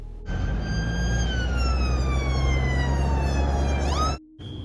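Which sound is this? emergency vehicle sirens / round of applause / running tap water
emergency vehicle sirens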